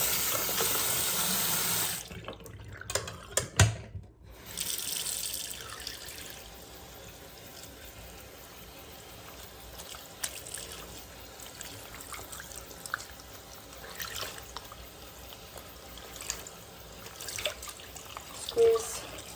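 Water runs from a sink tap during rinsing, a steady splashing flow that stops briefly early on, then resumes as a softer trickle with scattered drips and small splashes.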